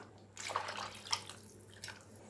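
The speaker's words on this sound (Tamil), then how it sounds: "இப்போ நம்ம புளி கரைச்சி வச்சுருக்க தண்ணியை சேர்த்துக்கலாம்." Tamarind water pours softly into a fish curry, liquid splashing with faint drips, quiet and close, continuing for a couple of seconds in an otherwise still room.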